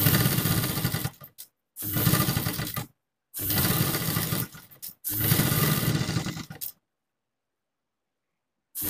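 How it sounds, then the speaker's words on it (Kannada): A sewing machine stitches thread piping onto a neckline in loud whirring bursts of about a second each, separated by short silent pauses, ending in a longer silence. "ಇವಾಗ ಈ ಎಂಡ್ ಅಲ್ಲಿ ನಾನು ಒಂದು ಸ್ಟಿಚ್ ಹಾಕ್ಬಿಡ್ತೀನಿ"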